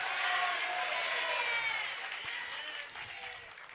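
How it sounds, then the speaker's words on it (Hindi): A crowd claps during a religious discourse in a hall, the applause dense at first and then gradually fading. "तालियों की आवाज में तो वृद्धि हो गई"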